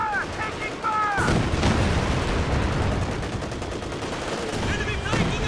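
Video game battle audio with heavy gunfire and artillery booms, dense rattling shots and blasts, loud and continuous, with brief in-game voice callouts at the start and end.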